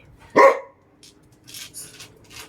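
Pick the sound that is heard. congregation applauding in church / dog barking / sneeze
dog barking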